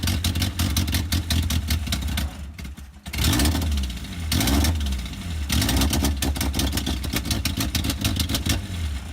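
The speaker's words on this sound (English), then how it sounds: "It's really just a really bad exhaust leak." A Toyota Supra engine runs roughly with a sharp, rapid ticking puff from a bad exhaust leak, revving up and dropping back a couple of times.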